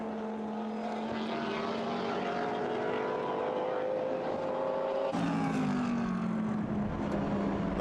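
A Ferrari 430 GT endurance race car at Silverstone drives by with a steady, loud engine drone whose pitch rises and then drops sharply on the pass, and the note continues under the sound of other engines.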